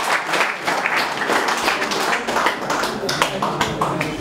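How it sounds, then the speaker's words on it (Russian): Crowd applause with clapping and tapping for wrestling champion brothers at a Lezgin celebration, steady and fairly loud across the clip, with voices talking over it. "Аплодисменты братьям!"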